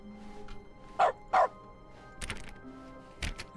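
A dog barks in the video game The Stanley Parable 2, two sharp close woofs in quick succession followed by softer yips and a later single bark over a faint electronic background.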